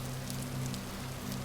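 Steady rainfall in the Vintage Story game world, a continuous even hiss of drops on surfaces with a low droning hum beneath, constant and unbroken throughout with no talking.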